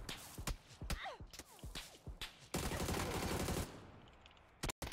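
Rapid gunshots ring out in a video game, first a scattered string of sharp cracks, then a dense sustained burst of automatic fire, fairly loud and close.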